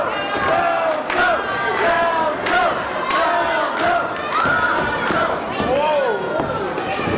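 Wrestling crowd noise at a Jordan Falco versus MV Young match, a loud, steady roar of shouting and cheering voices with rhythmic thumping claps or stomps throughout.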